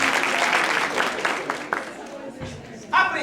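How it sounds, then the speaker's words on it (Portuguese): Applause for Mariana from an audience at a suicide-prevention panel event, a short burst of clapping that fades under a voice talking nearby. "Palmas para Mariana"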